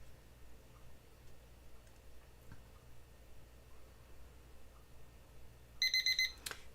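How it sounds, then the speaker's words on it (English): A timer alarm goes off near the end, a burst of rapid electronic beeping after several seconds of quiet room hiss with faint ticking. "And there's the timer."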